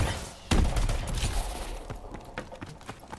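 Gunfire in Call of Duty: Advanced Warfare, a heavy burst of shots near the half-second mark followed by scattered sharper reports and thuds, loud and close with no talk over it.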